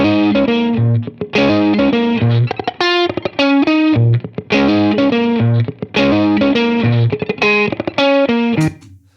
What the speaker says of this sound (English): a nice low gain Strat style tone there